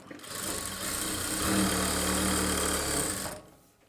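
A sewing machine stitching a blouse lining runs in one short, close burst, its motor whirring steadily and rising slightly in the middle before stopping abruptly, with no talking over it.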